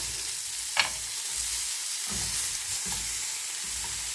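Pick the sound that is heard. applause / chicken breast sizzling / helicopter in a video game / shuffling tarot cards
chicken breast sizzling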